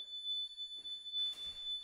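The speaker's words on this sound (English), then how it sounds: "you can't leave the room without triggering an alarm if you don't use your fob. We trigger the alarm here." Door alarm triggered when leaving a room without fob access, a steady high electronic tone sounding throughout, with brief faint rustling and handling noise beneath it.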